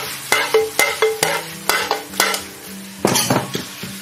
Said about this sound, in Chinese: 然后呢我们快速的把它们翻炒在一起